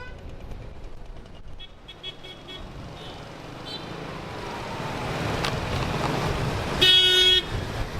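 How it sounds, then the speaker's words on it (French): Car horns honk in Marrakech traffic while skateboarding over the road, a busy roadway hum building with scattered short toots and a louder honk near the end. "les klaxons c'est pire qu'à Paris, hein"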